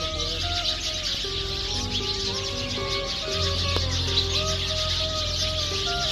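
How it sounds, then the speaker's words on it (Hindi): A dense chorus of many small birds in a tree overhead chirps continuously in the evening, a busy high twittering mass, with a low hum and some tonal sounds underneath. "ऊपर दरख्त पे बहुत सारी चिड़िया बैठी हुई है जो बहुत शोर कर रही हैं"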